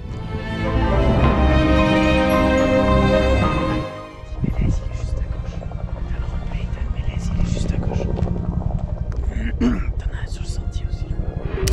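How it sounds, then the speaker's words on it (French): A helicopter drones steadily nearby over the Alps, its rotor beating loud at first, then continuing a little softer under faint background noise. "il y avait un hélicoptère qui rôdait aux alentours"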